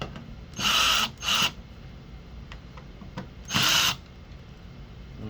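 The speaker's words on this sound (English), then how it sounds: "we're going to go ahead and use our driver and remove the screws here for the circuit board" A power driver backs out circuit board screws during a power jack installation, giving three short whirring bursts, two close together and then one more after a pause, over a quiet room.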